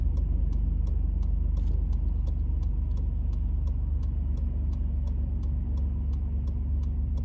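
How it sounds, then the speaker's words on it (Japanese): A silver Nissan Skyline GT-R with a 2.6-litre RB engine, 4WD and a quiet, road-legal Fujitsubo muffler, around 50,000 km, runs with a steady, low, smooth engine drone and a faint regular ticking throughout. "心地よいこう RB サウンドをね、楽しめるっていう感じですね。"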